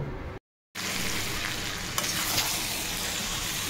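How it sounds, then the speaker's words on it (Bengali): Marinated mutton coated in yogurt, mustard oil and ground spices sautés in a pan with a loud, continuous sizzle and stirring scrapes, close up, after a brief cut of silence near the start. "এবার কষানো শুরু হয়ে গেছে"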